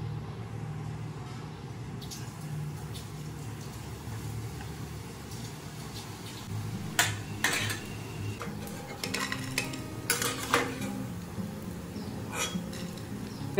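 Small pav bread rolls dropped into hot oil in a home kitchen, a low steady sizzle with utensil clatter and scraping clinks growing busier in the second half.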